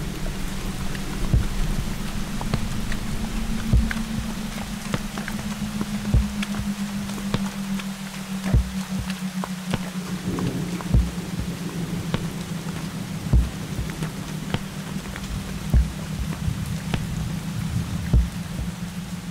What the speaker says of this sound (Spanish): La lluvia y el barro no nos dejaban avanzar.